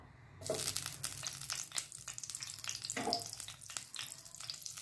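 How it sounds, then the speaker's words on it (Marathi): Butter sizzling in hot oil, a continuous crackling hiss with sharp pops and spits scattered throughout, close and fairly quiet. "थोडंसं बटर देखील मी यात घालणार आहे फोडणीला"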